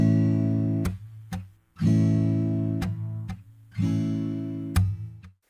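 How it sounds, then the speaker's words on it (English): Acoustic guitar played with the palm muting the strings near the bridge, giving a thumpy drum-like effect: muted strums and short percussive hits in a regular pattern, close up, no talking. "you'll palm mute the strings near the bridge."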